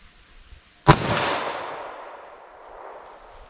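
A single 9mm pistol shot fired outdoors at a metal target fifty yards away: one sharp crack followed by a long rolling echo that slowly fades.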